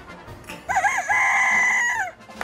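A rooster crows once, loud and close, a long drawn-out cock-a-doodle-doo held for over a second before trailing off.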